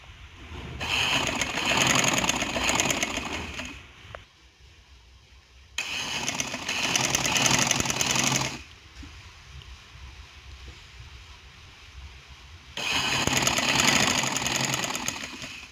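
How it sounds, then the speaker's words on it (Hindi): Sewing machine stitching fine piping on fabric for a square-shoulder kurti runs in three steady, close bursts of a few seconds each, with quiet pauses between them. "ये हमने एक पॉइंट की सिलाई लगानी है ताकि बारीक पाइपिंग हो, बारीक मगजी हो।"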